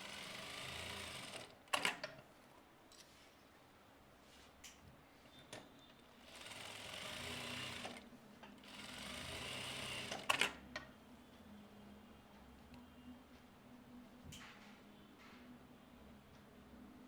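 A domestic sewing machine runs steadily while stitching pleats into a katori blouse, with a long continuous whirring hum broken by a few short pauses and sharp clicks, close and alone.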